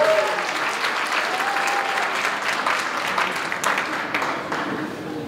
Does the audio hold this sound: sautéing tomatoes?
no